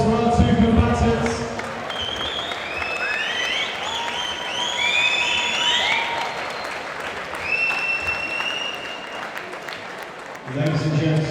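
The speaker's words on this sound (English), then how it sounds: "ladies and gentlemen, round of applause for our two combatants" A crowd at a boxing bout in Irlam applauds the two fighters, sustained clapping and some cheering under a ring announcer's amplified voice, with whistle-like squeals scattered through and the clapping fading toward the end.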